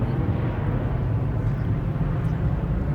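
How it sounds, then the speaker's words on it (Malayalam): An airplane flies past over Melbourne, heard as a steady, fairly loud low rumble with a broad roar and no voices. "ഫ്ലൈറ്റ് പോയതിൻ്റെ വീഡിയോ ഞാൻ എടുത്താണ്"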